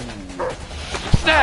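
A dog in the video game A Way Out yips and whimpers in short bursts, close and fairly loud, mixed with game sounds while people talk over it.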